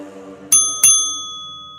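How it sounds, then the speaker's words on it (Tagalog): A small call bell in an antique shop is struck twice in quick succession, each bright metallic ding ringing on and fading out clearly on its own. "Umalingaw-ngaw ang tunog ng call bell."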